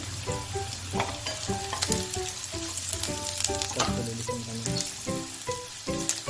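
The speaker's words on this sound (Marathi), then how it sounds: "कांदा आपला छान प्रकारे फ्राय झालेला आहे" Onion, carrot and other chopped vegetables fry in a pan for veg American chop suey, a steady close sizzle with frequent stirring scrapes and clatters throughout.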